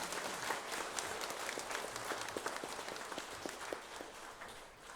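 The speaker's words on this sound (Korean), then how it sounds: "다시 한번 큰 박수로 한번 격려하겠습니다." A church congregation gives a sustained round of applause after a sung hymn of praise, a dense, even wash of many hands clapping together at a moderate distance.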